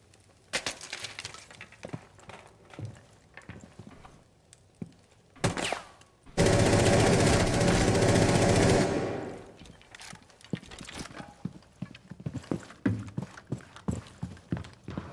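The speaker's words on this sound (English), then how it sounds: "When did the Ash start shooting?" Sustained automatic gunfire from the Ash operator in the video game Rainbow Six Siege, a loud dense burst of about three seconds amid scattered shorter shots, impacts and clinks.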